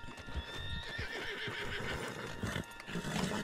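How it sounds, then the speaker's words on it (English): Horse in the Red Dead Redemption 2 video game: clip-clopping hooves with neighs and whinnies, steady and fairly close, over a busy game soundscape without speech. "Put Sprouse on the back of John's horse and let's get out of here!"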